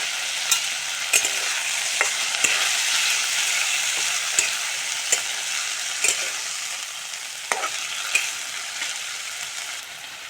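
Small mola fish fry in hot oil with a bright, continuous sizzle. Regular sharp taps of a utensil against the pan come about twice a second, with no talking.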